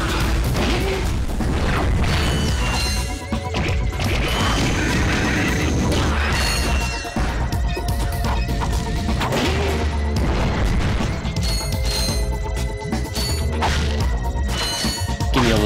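Repeated bomb blasts and crashing impacts in Ratchet & Clank, loud and dense over busy game music and effects, with bursts recurring every few seconds.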